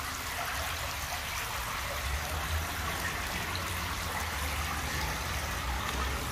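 Water running through a gold prospecting sluice beside a creek near an old tunnel outdoors, a steady close rushing and trickling wash that holds even throughout, with no voices.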